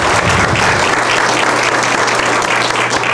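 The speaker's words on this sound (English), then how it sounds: "a big round of applause" Steady, loud applause from a crowd fills the whole stretch, dense clapping with no pauses and no one speaking.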